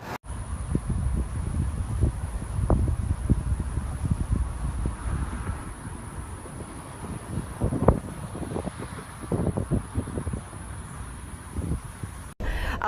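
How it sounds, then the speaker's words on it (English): Steady gusting storm wind after Hurricane Irma buffets the microphone, a constant low roar with rustling bursts and no voices. "right now it's still windy, and more than that, it's raining still harder"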